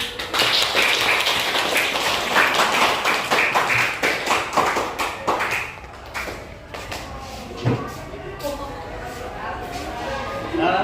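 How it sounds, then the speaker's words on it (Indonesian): A classroom audience of students claps after a presentation, with brisk, close, uneven claps that thin out midway, followed by scattered taps and a few voices. "Ya, tepuk tangan."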